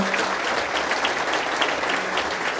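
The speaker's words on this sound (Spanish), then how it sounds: "él se merece un fuerte aplauso" A church congregation in San José, Costa Rica applauds after a sermon, producing a thick, even wash of clapping that stays constant and fairly loud throughout, with no speech over it.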